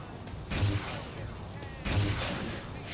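Machine gunfire in the Xenoblade Chronicles X Definitive Edition game on Switch: two heavy bursts of rapid fire, each starting abruptly and trailing off, loud against the game's background sound.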